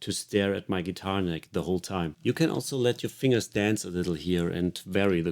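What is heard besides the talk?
No everyday noises stand out.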